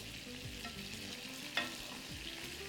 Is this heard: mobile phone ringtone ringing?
no